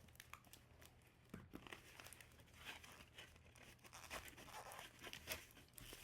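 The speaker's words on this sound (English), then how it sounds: "If I can get the bag open." Plastic bag from a cow eye dissection kit crinkles and crackles as it is pulled and torn open, a quiet, close, continuous rustling with sharper bursts of crinkling.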